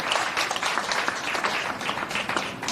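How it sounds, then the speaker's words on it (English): Audience applause at a live product launch event, with steady, dense clapping from a crowd that holds at full strength for the whole stretch. "Come on, everybody, a huge round of applause,"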